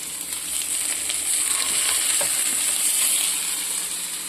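Banana flower and oats cutlets frying in hot oil give off a steady, loud sizzle that holds for several seconds, with faint stirring but no talk.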